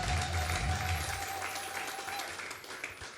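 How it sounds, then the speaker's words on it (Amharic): A church congregation at a prayer service claps for God, a broad wash of many hands applauding at moderate distance, with a low hum underneath early on and the clapping thinning slightly toward the end. "አጨብጭቡ ለእግዚአብሔር።"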